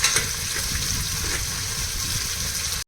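Chopped onions fry in oil and ghee with pulao spices for mutton biryani, giving a steady, close hiss and sizzle that runs evenly throughout without talk.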